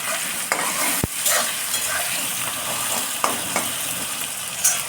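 Onion and tomato, salted, frying in a pan while being stirred: a steady, close hiss of sizzling oil with a few scraping strokes and a sharp clack, and no talking.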